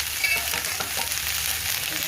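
Ivy gourd pieces fry in AMC cookware, giving a steady, close hiss and sizzle with no talking.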